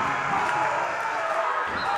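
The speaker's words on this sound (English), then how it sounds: "the crowd does not like that here at the Reggie O'Brien Gymnasium" A home crowd in a high school boys' basketball gym reacts with displeasure to a travel call, a steady wash of voices and murmuring disapproval filling the gymnasium.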